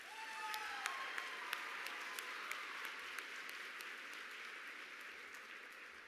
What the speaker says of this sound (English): Please give a round of applause to all of our state officer candidates.